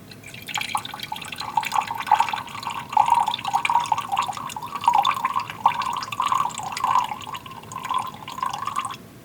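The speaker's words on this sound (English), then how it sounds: "And now we'll add the water to get it up to 100." Water is poured steadily into a lab solution mixture to bring it up to the 100 mark, a continuous bright trickling stream running the full length without a break.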